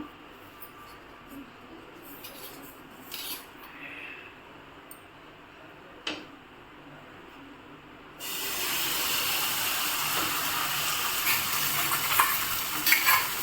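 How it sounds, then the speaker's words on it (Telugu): Omelette batter poured onto a hot pan: quiet clinks and stirring at first, then a sudden, steady frying sizzle that holds loud and close to the end. "ఇప్పుడైతే ఆమ్లెట్ వేస్తున్నాను"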